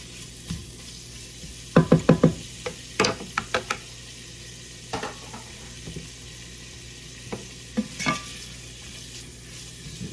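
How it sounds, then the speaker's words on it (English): Peppers frying with bacon in rendered bacon fat, ahead of beer-braised bratwurst: a low, quiet hiss punctuated by scattered clusters of sharp spatula scrapes and clicks against the pan, close up. "Throw our peppers in, because we want our peppers and onions to cook with the bacon and in the bacon fat."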